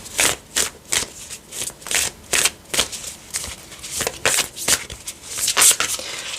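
Tarot cards being shuffled by hand, a steady series of quick crisp riffling bursts, close and fairly loud, with no speech.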